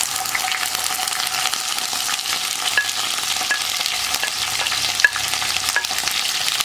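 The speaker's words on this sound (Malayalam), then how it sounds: "വെണ്ടയ്ക്ക ഒന്ന് ഹൈ ഫ്ലെയിമിൽ വെച്ച് വഴറ്റിയെടുക്കുക." Chopped okra stir-fries in coconut oil on high flame, a steady, dense sizzle lasting throughout with occasional spatula scrapes and small pops.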